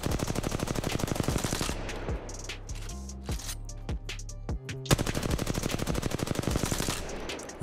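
The R-301 rifle in Apex Legends fires in long, rapid full-auto bursts, loud and close, with a short stretch of single spaced shots in the middle before sustained spraying resumes.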